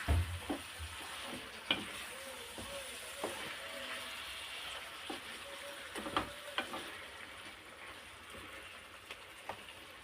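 Chicken with vegetables fries in a covered Moroccan tagine pot, a faint, low sizzle broken by scattered clicks and small knocks, with no voices.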